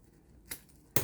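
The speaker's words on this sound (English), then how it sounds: "And then we're going to snip it off." Scissors snip a piece of ribbon with two quick, close, crisp cuts about half a second apart against a quiet background.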